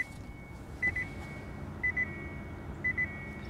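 Reverse warning beeps inside the cabin of a 2015 Nissan Leaf S, three short quick double beeps spaced about a second apart over a steady low interior hum.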